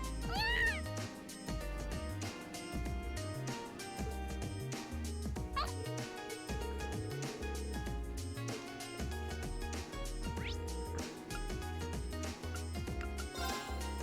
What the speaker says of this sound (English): Oh yes, best cat Celine.